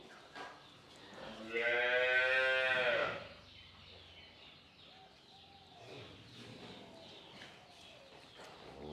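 A loud, drawn-out cow moo rises near the start and lasts about a second, followed by quieter background voices and farm noise.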